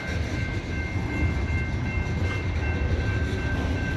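A loaded CSX coal train crawls uphill on Parr's Ridge with one locomotive offline, giving a steady low rumble and droning engine hum at moderate distance, continuous throughout.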